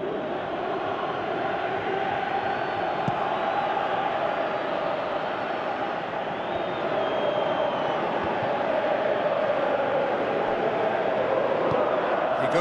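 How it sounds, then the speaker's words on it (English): A large stadium crowd in a PES football video game roars in a steady, continuous wash of noise, with a commentator's voice faintly over it. "you can hear how the crowd are reacting to this too"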